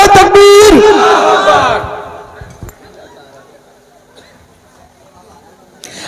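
A large gathering at a religious sermon roars back in unison to a call, a loud surging chant of many voices that fades after two seconds into quiet room noise.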